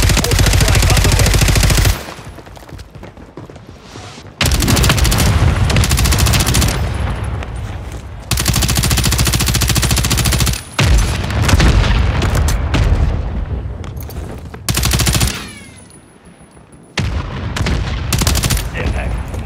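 Mortar strike in a Call of Duty game, with loud, booming blasts and bursts of gunfire that erupt in heavy, saturated waves, separated by brief, quieter pauses.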